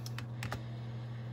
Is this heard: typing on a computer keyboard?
yes